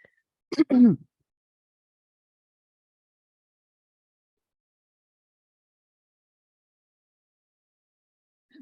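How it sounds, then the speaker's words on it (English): One short, abrupt cough or throat clearing close to the microphone, then long near-silence with a faint murmur at the very end. "Sorry for coughing in the mic."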